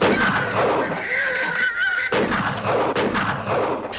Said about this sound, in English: So we're just getting the gunshots.